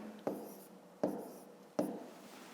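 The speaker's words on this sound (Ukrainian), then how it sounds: "Записуємо тоді відповідь." Three quiet, evenly spaced pen taps and scratches on paper as an answer is written by hand to a fifth-grade math exercise, each stroke starting sharply and fading.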